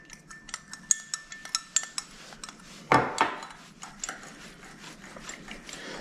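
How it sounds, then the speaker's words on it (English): A spoon stirs marinade in a metal pot, scraping and clinking against the sides in a quick, regular rhythm of close, sharp taps, with one louder clatter midway. "Get that nice stir until everything is blended in."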